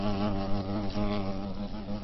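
A gnat or mosquito buzzes in a continuous close, droning hum with a rich, reedy tone and steady loudness, with nothing else heard.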